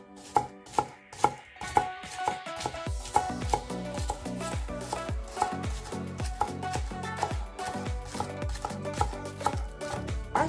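Knife slicing spring onion on a cutting board, a fast run of crisp rhythmic chops, close and clear with no talking.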